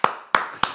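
Three sharp, loud hand claps ring out at an even rhythm, each a crisp broadband snap with a short room tail, close to the listener with no talking in between.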